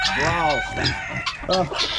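Several roosters and hens squawk and call over one another close by in a rooster pen on a farm, a busy, noisy pen of chickens with overlapping harsh cries.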